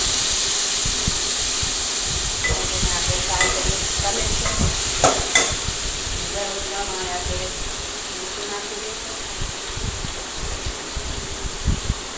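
Brinjal vegetable curry, tempered with mustard, cumin, asafoetida and curry leaves, is stirred in a hot pan. Ladle scrapes and light clinks sound over a continuous sizzle that is loudest midway, with no clear speech.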